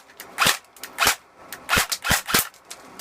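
G69 airsoft gun firing several sharp, close snapping shots in an uneven sequence, some paired quickly, with quiet gaps between.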